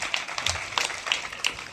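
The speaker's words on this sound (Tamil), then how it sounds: "ஒரு கைத்தட்டி நன்றி சொல்லுங்க மக்கள்." A church congregation claps in thanks, a moderately loud burst of scattered, uneven hand claps with distinct sharp slaps standing out through the short stretch.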